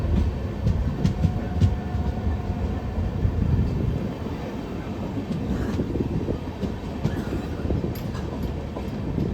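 Kasganj–Aishbagh special passenger train running on the Lucknow–Moradabad main line near Bareilly Junction, a loud, steady rumble of wheels on rails heard from on board, with rhythmic clatter and no talking.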